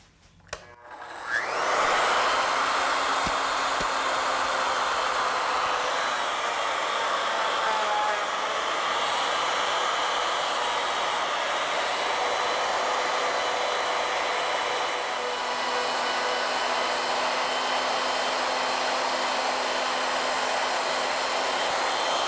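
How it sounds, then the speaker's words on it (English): A router mills a wooden spindle blank round on a lathe jig, cutting from headstock to tailstock. It starts up within the first seconds, then holds a loud, steady, close whine throughout. "I'm going to mill the stock round, cutting from the headstock towards the tailstock"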